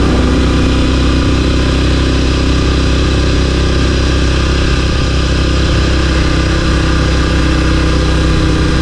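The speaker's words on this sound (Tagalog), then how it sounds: "Tahimik lang yung tambucho natin." A motorcycle engine with a silencer on its exhaust idles steadily with a low, muffled rumble, continuous and fairly loud throughout, with no voices.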